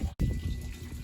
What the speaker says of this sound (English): It looks like my dad is pumping water from the tote to the shop.